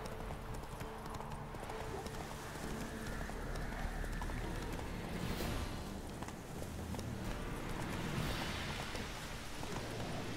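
Steady clip-clop of horse hooves at a trotting rhythm in the video game The Witcher 3, with an occasional snort, over light rain-like ambience and faint background game sounds.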